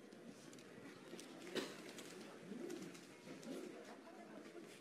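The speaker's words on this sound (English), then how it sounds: "You can see the pigeons in the courtyard." Pigeons in a temple courtyard at the Shaolin temple in Wuhan, China, giving a few soft, low coos at a distance over faint outdoor ambience.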